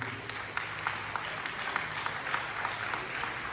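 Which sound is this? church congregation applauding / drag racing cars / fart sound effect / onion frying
church congregation applauding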